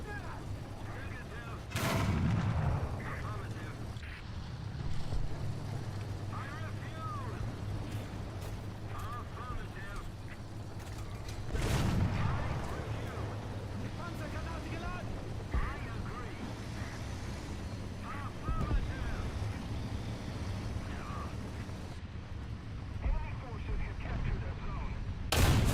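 Tank cannon fire in the War Thunder video game, two heavy booming shots several seconds apart, each a sharp blast with rumbling tail, over steady engine drone while someone talks.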